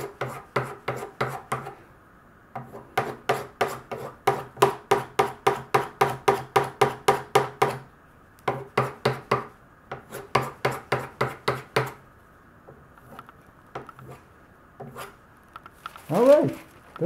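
Steel knife blade stroked across silicon carbide sandpaper, a quick series of rhythmic rasping rubs in bursts with short pauses, close and fairly loud, with a brief voice near the end.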